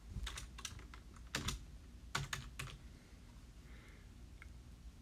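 Someone types a name on a computer keyboard, quick clusters of light key clicks in two short bursts, then near silence with a soft tick.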